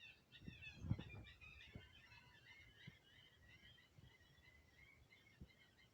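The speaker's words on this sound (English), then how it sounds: "hear the birds." Songbirds chirp and twitter faintly outdoors in a backyard where a blue jay is about, with a few soft thumps and light rustling near the start.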